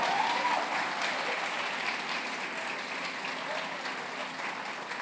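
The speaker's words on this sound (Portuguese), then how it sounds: "Palmas agora, é assim que eu quero ver." A church congregation applauds together, dense steady clapping filling the room at a constant level, with faint voices mixed underneath.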